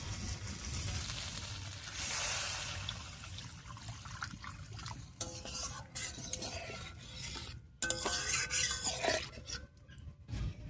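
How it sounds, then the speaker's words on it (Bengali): Water poured into a pan of fried spices for a river fish curry, a steady sizzling rasp with stirring scrapes that swells and flares as the liquid hits the hot masala, close and alone without talk. "এবারে ঝোলের জন্য জল দেব।"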